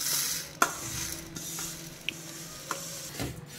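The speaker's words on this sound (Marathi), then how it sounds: "आतां घातला पातळ फोव आनी हेंय मातशें 1-2 मिनटां लो फ्लेमीन एका फ्राय करून घेवंक जाय" Thin poha fries on a low flame in a pan, a soft steady sizzle with occasional sharp spoon taps and scrapes against the pan as it is stirred, quiet and close with no voices.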